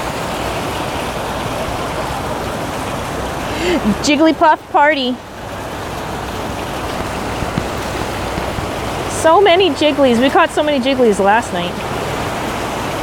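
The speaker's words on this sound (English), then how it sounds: "we gotta go by the waterfall, guys. So, just sorry about the little background noise." Steady broadband rush of a waterfall runs throughout at a constant level, with people talking over it at two points.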